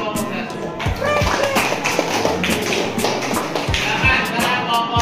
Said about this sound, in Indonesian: Kasih aplaus buat kelompok 1.